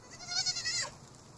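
A sheep-like pal in Palworld gives a single short, high, wavering bleat when petted, faint and alone against quiet game ambience.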